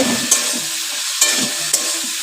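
Potatoes fry in a pan with a steady loud sizzle, and sharp scrapes of stirring occur about three times. There is no talking.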